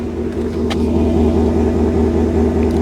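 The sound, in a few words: Ford F-150 Tremor 5.0 V8 engine running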